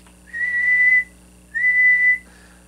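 Two long, steady whistles go into a CB radio microphone feeding a Palomar Skipper 300 amplifier on the bench, each held about three-quarters of a second with a short pause between, clear over a faint hum.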